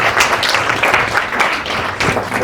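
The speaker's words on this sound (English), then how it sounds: "We should first clap for ourselves." Participants on the final day of a university digital marketing skills training program clap for themselves, a lively group round of applause with uneven surges of clapping that stays close and fairly loud throughout.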